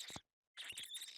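Scorpion creatures in the survival game Empyrion Galactic Survival, in an abandoned bunker, give off squeaky, chittering squeals in two bursts split by a brief silence. The second burst runs longer and more continuous.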